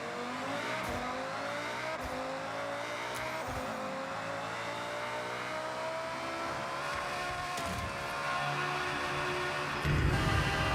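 A racing car engine in Forza Horizon drones loudly at high revs, holding steady and climbing through gears, with a harder surge near the end.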